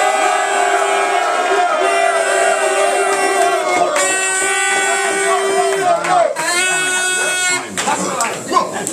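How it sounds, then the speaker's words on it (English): Spectators at a Cup Clash event in London roar for Article Ranks, a loud continuous wall of cheering, yelling and whistling with shrill voices, briefly dipping and swelling again near the end. "Make some noise for Article Ranks."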